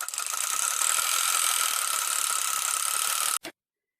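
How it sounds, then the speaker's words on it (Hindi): A sewing machine runs steadily for about three and a half seconds as a blouse sleeve is stitched onto its lining, a close continuous whirring hum that stops abruptly. "एकदम यहाँ पे सिलाई लगानी है अस्तर के ऊपर"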